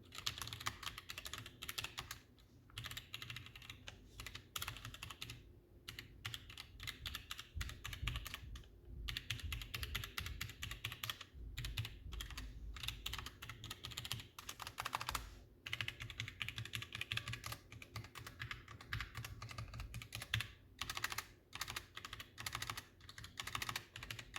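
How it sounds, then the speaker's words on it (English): Typing on a Roccat Vulcan 122 AIMO mechanical keyboard at a normal, everyday pace, with rapid clustered keystrokes and brief pauses, close and fairly quiet, with no talking. "The first part will be kind of a normal typing experience"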